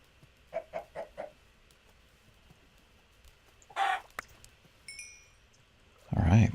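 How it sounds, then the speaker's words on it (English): A Minecraft chicken gives a few short quick clucks, followed by a louder cluck and some faint game sounds, quiet and close with pauses between them. "Oh, chicken. Come here, chicken."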